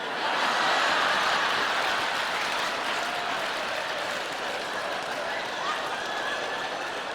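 An audience of about a thousand pastors applauds in a broad, dense wash of clapping that holds steady for several seconds, full and even with no voices over it.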